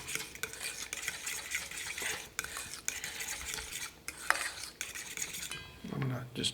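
A spoon stirs tomato paste into a sauce in a pan, producing soft, irregular scraping and wet sloshing strokes with a faint sizzle, quiet and close.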